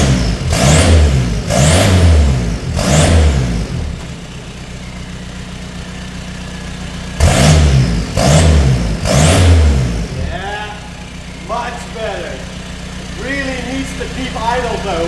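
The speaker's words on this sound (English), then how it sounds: "let's lower the lift and let's start the engine" Loud, rough diesel engine without mufflers revs in three quick bursts, a lull, then three more blasts, with a throaty idle rumbling between them and faint talk near the end.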